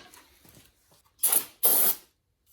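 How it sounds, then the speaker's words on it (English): Two sharp hissing bursts of brake cleaner sprayed onto a sludge-covered fuel drain part from a 2017 Powerstroke diesel, the second burst longer, after a few faint handling noises. "I'm going to clean mine with brake cleaner because this has a lot of sludge in it."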